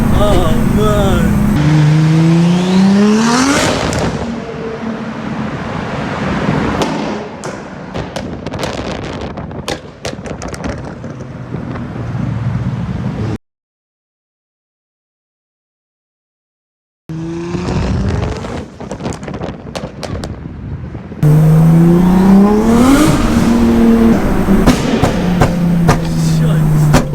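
A 700 bhp Nissan Skyline R33 roars inside a tunnel, loud and close, with repeated rising revs and sharp backfire pops echoing off the walls. A few seconds of silence fall between bursts, and voices can be heard alongside the engine.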